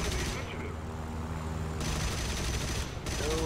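Aircraft turret guns rattling in rapid sustained bursts during a War Thunder dogfight, loud and dense with engine drone beneath, broken by brief pauses.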